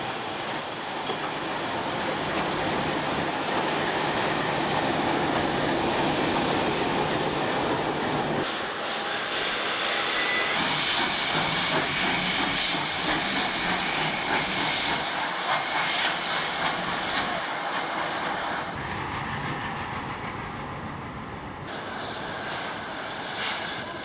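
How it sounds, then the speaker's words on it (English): Steam and diesel locomotives work on the Lima to Huancayo railway in Peru, a continuous loud rumble of wheels and hissing steam with squealing wheel noise that carries on throughout. "The diesels have caught up and will take over from here while the steam engine heads back to the depot."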